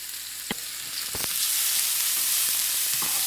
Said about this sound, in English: We always put the onions and the ginger in it first. Kind of brown them to get the flavor out.